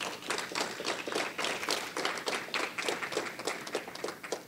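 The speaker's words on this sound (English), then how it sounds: "let's give them a round of applause first" Round of applause from the audience at an insurtech pitch night's opening remarks, honoring the organizers and sponsors; quick, crisp individual claps build into a steady, moderately quiet ovation with no talking.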